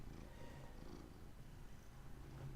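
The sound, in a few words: cat purring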